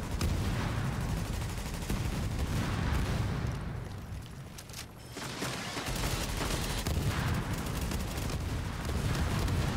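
Incendiary rounds spray from an automatic weapon in The Division in dense, rapid bursts that are loud and close, pause briefly near the middle, and then rattle on again, with no speech.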